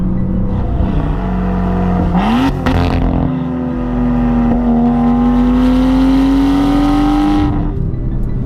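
A BMW M2's turbocharged engine revs toward its 7,000 RPM red line, its tone rising through gear changes into a long climbing pull, loud and close, with no speech.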